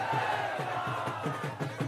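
A rally crowd at a Holi gathering chants the slogan "Jai Bihar" in a steady repeated rhythm of loud massed shouts, about one call every quarter second, with a constant hum of voices underneath.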